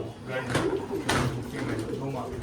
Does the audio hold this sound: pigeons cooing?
yes